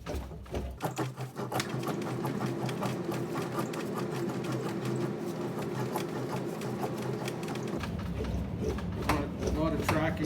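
A steel panel for a 1950 Chevy cab corner is rolled back and forth through an English wheel, a continuous close mechanical rumble with rapid rhythmic clicks and ticks that shifts in tone partway through.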